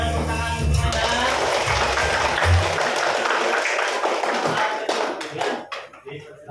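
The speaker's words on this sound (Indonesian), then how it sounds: "Boleh tepuk tangan untuk semuanya." Children clapping together in an elementary school classroom, a dense steady patter of many small hands that continues for several seconds, then thins out and breaks into scattered claps as it fades.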